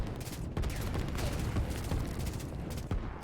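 Rapid volleys of artillery fire from the back lines in the strategy game Line War, dense overlapping booms and cracks rolling continuously at steady loudness with sharper shots punching through.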